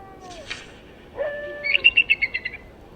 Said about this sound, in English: the hawk and the wolf and the great snowy owl set up a terrible, terrible howl